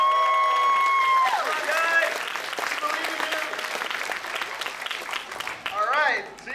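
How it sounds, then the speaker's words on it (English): Audience applause and cheering from a crowd at a game event, loud and sustained throughout with whistles and tonal game sounds over it, fading slightly toward the end. "Let's cheer it for Chris and Jordan."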